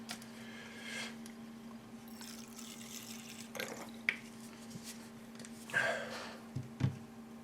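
Clean water poured into a small brush-rinsing bowl: soft splashes and trickling bursts over a steady low electrical hum, with a few louder sloshes near the end.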